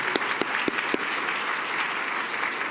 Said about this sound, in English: give Ms. Johnson a round of applause, and tonight's honorees